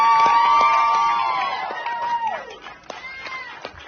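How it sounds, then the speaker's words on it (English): An audience greets Prince Harry with a loud swell of cheering and high whoops that rises over the first couple of seconds, then thins into scattered shouts and chatter from a crowd. "listen to the applause he gets, guys"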